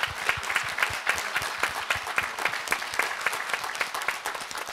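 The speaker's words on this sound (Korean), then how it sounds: "우리 청중들 여러분들께 서로에게 큰 박수 한번 쳐주시고요" Audience at a memorial talk concert for Cardinal Kim Sou-hwan breaks into loud, sustained applause, dense overlapping claps filling the room steadily throughout.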